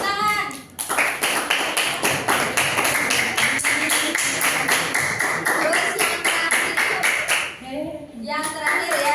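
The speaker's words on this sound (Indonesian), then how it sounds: "Tepuk tangan." Students in a classroom clap together in a brisk burst of rapid, fairly loud hand claps lasting several seconds, with a speaking voice before and after.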